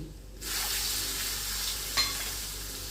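A loud, steady sizzle starts abruptly as asafoetida, turmeric, curry leaves and chillies hit hot oil for tempering, a continuous bright hiss with a brief clink partway through.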